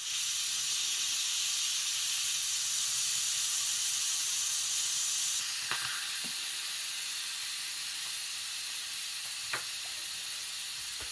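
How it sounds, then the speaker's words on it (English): A pressure cooker full of homemade pulse soup gives off a steady, loud hiss of steam throughout, with a few faint clicks and taps partway through and no voices. "It's a lot of steam in it."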